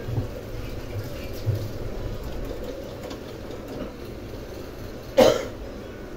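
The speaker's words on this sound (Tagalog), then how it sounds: "Ubo yan." A person coughs in a kitchen while cooking ginataang puso ng saging, a single short harsh cough near the end against a steady background hum and faint clatter.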